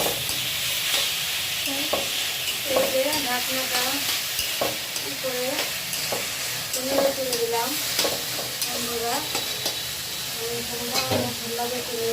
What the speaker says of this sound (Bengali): এই যে ভাজা আলুটা ছেড়ে দিচ্ছি